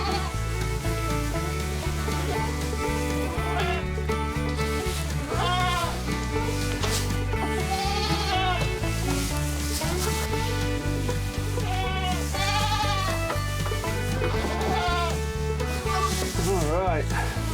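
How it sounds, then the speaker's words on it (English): Several goats bleat repeatedly at close range in a farm pen, the wavering cries coming over steady background noise and rustling. "Silly goats."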